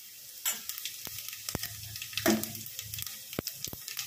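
Cumin seeds sizzle in hot oil in a pan, a steady crackling fizz with sharp pops and a few clinks of a utensil, heard close up.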